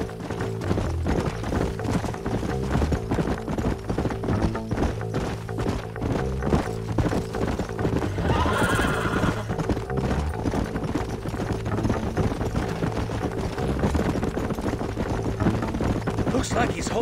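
Horses clip-clopping at a steady trot in the Red Dead Redemption video game, hoofbeats continuous and fairly loud under game music and a snatch of speech, with a brief whinny partway through.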